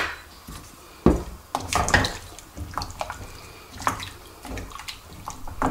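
Water is poured into a cooking pot of pumpkin for soup, with splashing and gurgling near the mic, interrupted by a few knocks of the pot and lid.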